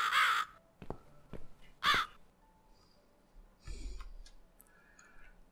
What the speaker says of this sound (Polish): O, znowu ten ptak.